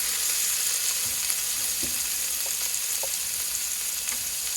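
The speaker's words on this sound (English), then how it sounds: "Next I'm going to drop this cubed back strap right off that old floppy ear dough." Cubed venison backstrap sizzles and fries in a pan, a constant close crackling hiss with a few soft stirring knocks and clinks scattered throughout.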